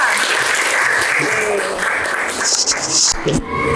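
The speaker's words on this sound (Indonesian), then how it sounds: "tepuk tangan untuk Septa" A group at a teacher training session applauds a participant, a mid-level clatter of clapping over several seconds, mixed with voices talking and some louder bursts near the end.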